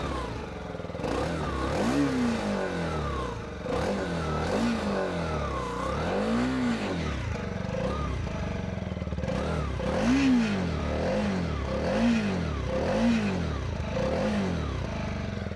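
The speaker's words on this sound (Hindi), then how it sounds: "तो एग्जॉस्ट नोट तो सुने बिना हम वीडियो को एंड नहीं कर सकते।" A TVS RTX 300 motorcycle revs close by, its exhaust note rising and falling in repeated throttle blips over a steady idle, loud and alone with no talk.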